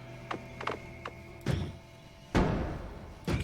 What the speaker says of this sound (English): Casts a nice big explosion